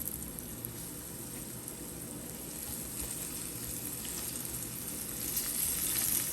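Shrimp sizzling in an oiled pan over medium heat, a steady close frying hiss that swells slightly toward the end, with no talk over it.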